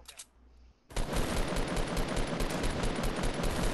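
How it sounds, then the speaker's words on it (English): Sustained rapid automatic gunfire in Fortnite shreds a wall, a loud continuous burst that starts abruptly after a brief quieter moment and hammers on without pause. "Keep shooting that wall down."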